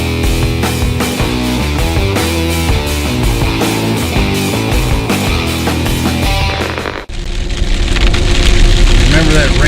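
Rain patters steadily at a campsite near Potts Mountain in the Appalachians, blended with music-like tones for most of the stretch before a louder, broader wash of rain takes over near the end.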